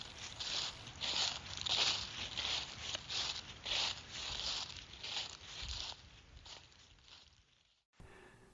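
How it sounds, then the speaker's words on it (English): Footsteps crunch through dry leaves on an outdoor walk, a steady series of close, crisp rustling steps that slow and soften toward the end. "When I'm walking, I like to listen to the sound of the leaves crunching under my"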